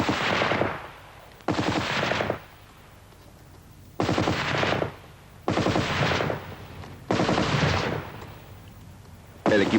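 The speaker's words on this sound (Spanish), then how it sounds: "La Vickers, una ametralladora medium, sólidamente montada en un trípode y alimentada por una cinta de munición" A tripod-mounted, belt-fed Vickers medium machine gun fires in sustained bursts of roughly a second each, separated by short pauses, loud and close with steady rapid rattling.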